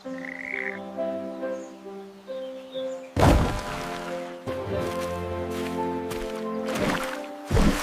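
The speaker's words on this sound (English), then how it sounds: "It's just a little frog." A little frog by a big forest pond croaks loudly in a cartoon scene, sounding several close, punchy croaks and thuds over light background music.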